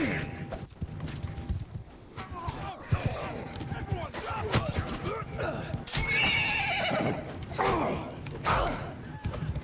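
A horse neighs and whinnies loudly amid clip-clopping hooves and clashing battle noise in a Mount & Blade II: Bannerlord desert fight, with someone talking over the din.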